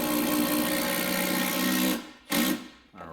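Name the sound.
socket wrench tightening a rotted bolt on a GM filler neck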